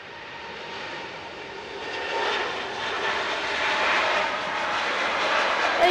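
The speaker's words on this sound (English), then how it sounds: "A320 Neo in Aegean colours." An Aegean Airlines Airbus A320neo jet at Manchester Airport, its engine whine and rushing roar building gradually from moderate to louder over several seconds, heard alone without talk.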